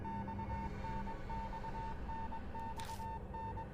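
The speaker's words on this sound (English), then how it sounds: "The beeping becomes gradually louder," A steady telegraph-like beeping from the Death Mark video game repeats in a dash-dot rhythm, a single high tone pulsing evenly over a low hum and growing slightly louder, with no one talking.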